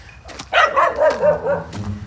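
A dog close by gives a short run of barks and high yelps, four or five in quick succession, with no one speaking.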